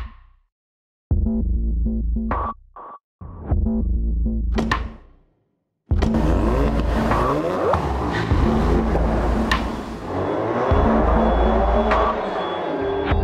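A Ford Focus RS on a racetrack revs hard in short bursts between silent gaps, then its engine note builds steadily under sustained acceleration, loud and close from inside the car, with no talking.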